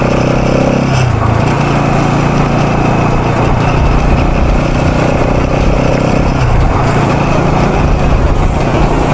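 A motorcycle engine on a road ride, a loud, continuous close-up drone with a brief pitch shift near the start and another around the middle as the rider changes speed, heavy wind rumble throughout.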